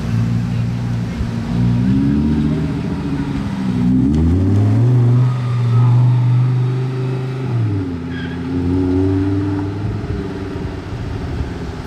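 Lamborghini Huracan Evo with a 1020-horsepower setup revving loudly nearby, its engine note climbing and falling through several swells while someone talks over it.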